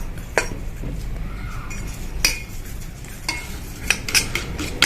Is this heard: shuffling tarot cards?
no